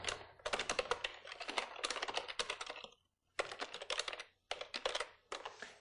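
Keys clatter in quick bursts as a URL is typed on a computer keyboard while configuring Internet Explorer in Windows 8, with a short pause mid-way and then more rapid tapping, close and clear with no talk.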